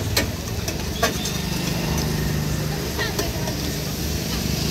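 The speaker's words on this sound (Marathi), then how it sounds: "मस्तपैकी काकांना फ्राय वगैरे करायला घेतलंय" Spiced street food frying at a vendor's stall, a continuous close sizzle and hiss with a few sharp clicks of a utensil, over a steady low hum of engines or machinery.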